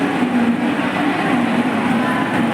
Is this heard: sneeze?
no